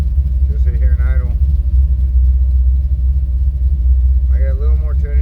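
An old truck engine idles with a steady deep rumble, loud and close, while someone talks briefly over it.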